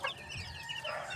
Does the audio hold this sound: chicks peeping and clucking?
yes